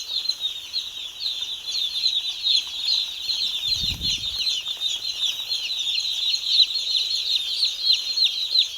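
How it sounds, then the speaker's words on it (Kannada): A flock of about 650 newly arrived broiler chicks peep constantly in a dense, high-pitched chorus on their first day of rearing, with a brief low thump partway through. "ಬಾಯ್ಲರ್ ಕೋಳಿ ಇವು"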